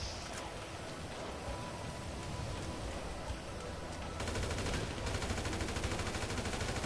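Gunfire in a GTA game, with a sniper rifle among the weapons, crackling as dense, rapid shots over a steady noisy backdrop that grows louder near the end.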